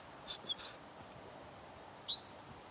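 A single wild bird calling in short, bright chirps: a quick pair of notes, a pause, then a different set of higher and sliding calls, fairly close and clear over faint background hiss.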